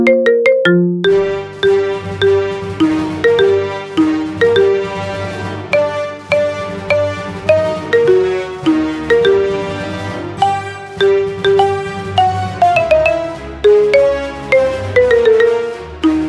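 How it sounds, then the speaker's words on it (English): A marimba remix of a theme plays as a ringtone, bright struck mallet notes in a loud, steady march rhythm with a low bass line, repeating phrases and no voices. "Make your phone ring with the best ringtone of the year."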